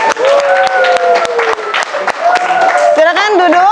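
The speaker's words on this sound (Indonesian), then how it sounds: "beri tepuk tangan dulu." An eleventh-grade civics classroom breaks into applause, sharp scattered hand claps rising under overlapping student voices and chatter, close and lively for a few seconds.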